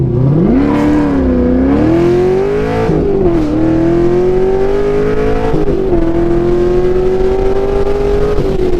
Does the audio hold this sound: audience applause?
no